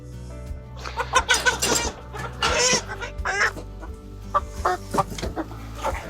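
Chickens cluck and squawk close by in a busy, overlapping flurry while being caught on a cabin homestead, with a steady low hum underneath.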